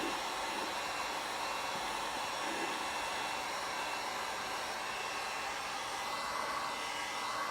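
A heat gun blows steadily on the glue of a car headlight lens, a constant broadband airy whoosh with no pauses, moderately loud and unaccompanied by speech.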